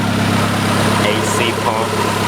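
A 1995 Honda Civic engine idles steadily up close after a head gasket replacement, a continuous low hum and drone with an AC pump and fans also running, while a person talks over it.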